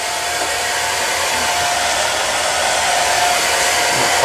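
A handheld hair dryer blows steadily and loudly at close range while drying hair, a constant whooshing roar with no break across the whole stretch.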